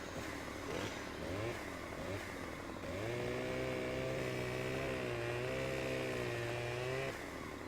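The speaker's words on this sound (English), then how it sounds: "He's got his chainsaw." Chainsaw in the Farming Simulator 15 game, a buzzing two-stroke motor idling unevenly, then revving up into a loud, steady high whine for several seconds before easing back down.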